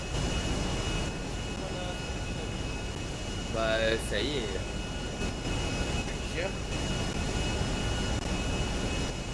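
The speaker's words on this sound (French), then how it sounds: "C'est avion." Jet aircraft engine in a role-play video game, a steady loud roar filling the whole stretch, with brief voices talking over it partway through.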